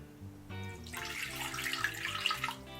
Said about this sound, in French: je vais mettre un peu de bouillon de volaille